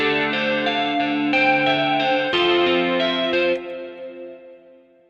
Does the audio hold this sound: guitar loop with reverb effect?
yes